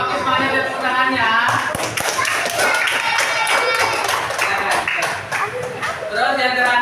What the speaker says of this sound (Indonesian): Kalau bagus mana tepuk tangannya?